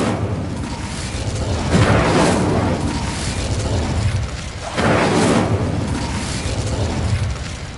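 The Incendio fire spell cast in Hogwarts Legacy: two loud whooshing fiery bursts a few seconds apart, each swelling and roaring, over a steady bed of game noise.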